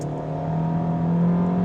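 A 2025 Kia K4 with a 112 kW naturally aspirated engine accelerates in sport mode, its steady engine drone rising gradually in pitch, heard close and loud from inside the cabin without talk.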